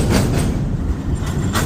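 A heavily loaded freight train hauled by a single locomotive rumbles past close by in a steady, loud roar of wheels and cars, with a few faint rhythmic clacks and no voices.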